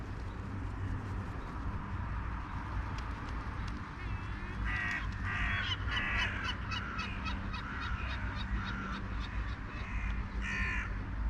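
A flock of crows feeding on noodles in a field caws repeatedly, with overlapping harsh calls in irregular bursts over a steady low traffic rumble, while a person talks quietly at times.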